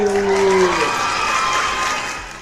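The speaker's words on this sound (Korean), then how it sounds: "자, 박수!" An audience at an award ceremony in a conference hall breaks into loud applause and cheering, a dense, sustained crowd roar with whoops that slowly fades.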